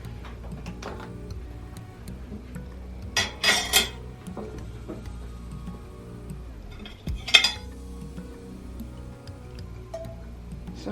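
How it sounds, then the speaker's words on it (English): Utensil clinks and scrapes against a pan as olive oil is stirred while heating, a few light metallic taps and two brighter clatters over a quiet background hum, close and without talk. "So I'm going to stir it in here for a minute."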